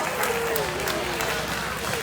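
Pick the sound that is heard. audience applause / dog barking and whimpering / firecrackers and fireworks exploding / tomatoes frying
audience applause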